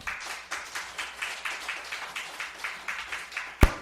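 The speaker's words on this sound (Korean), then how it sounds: "다시 한번 교장님께 큰 박수 부탁드리겠습니다" A church congregation claps together in a steady, evenly spaced rhythm, faint and somewhat distant, ending with a single louder thump close by.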